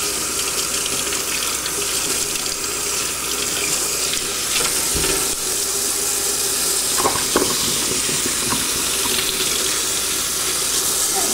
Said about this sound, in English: And then just let the water run through it.